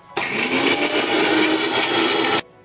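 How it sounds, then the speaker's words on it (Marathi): A mixer grinder whirs loudly and steadily for about two seconds, grinding masala for egg curry in a home kitchen, then cuts off abruptly, with no talk over it. "हे यामध्येच वाटून घेऊ बघा. आता बारीक होतं लगेच मसाला."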